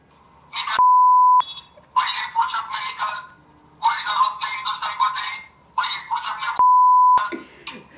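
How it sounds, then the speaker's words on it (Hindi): A spy camera hidden in an LED bulb sounds its custom motion-triggered alarm loudly: long steady beep tones alternating with bursts of a recorded voice-like chant, repeating in a loop. "जो कस्टम साउंड है वो ट्रिगर होगा"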